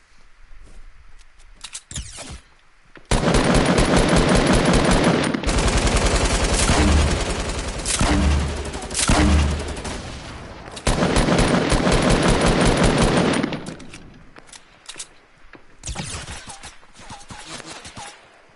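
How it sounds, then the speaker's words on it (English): Video game gunfire with long bursts of rapid automatic fire and scattered single shots, loud and close, broken by short quieter gaps. "What are you shooting at?"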